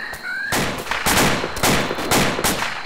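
Sustained bursts of close gunfire, loud and repeated, crackling in rapid volleys for most of the stretch after a brief quieter opening.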